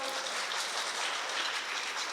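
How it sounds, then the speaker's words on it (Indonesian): A church youth congregation claps for a mother named Ibu Teti at a Valentine's service, an even, continuous patter of many hands at moderate distance. "kita beri tepuk tangan dong buat"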